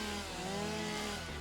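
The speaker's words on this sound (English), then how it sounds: "if I use my chainsaw" A chainsaw in the video game Satisfactory cuts through fungus, a steady dense buzzing drone that holds level throughout the short stretch, loud and close with no speech over it.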